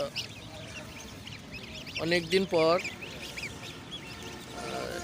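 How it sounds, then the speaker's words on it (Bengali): One-week-old goose goslings peep and chirp in a group, with a couple of louder honking calls near the middle and brief speech nearby. "এটা হচ্ছে 1 সপ্তাহ বয়সে রাজহাঁসের বাচ্চাগুলো দেখেন"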